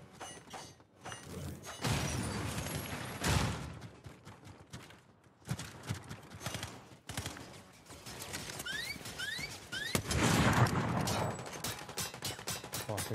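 Gunshots in a video game, irregular sharp cracks and quick volleys at close range mixed with mechanical clicks and clatter, with loud bursts spread across the stretch.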